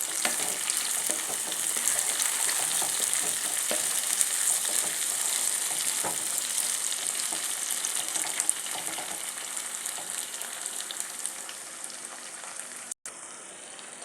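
Onion and tomato sauté in a pan for a ridge gourd and prawn gravy, giving a steady, close, hissing sizzle with occasional stirring scrapes throughout. The sizzle is heard alone, with no talk.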